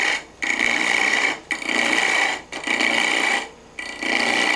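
A gouge roughs down teak on a wood lathe in rhythmic, close, scraping bursts, about four cutting passes broken by brief pauses, with no talking.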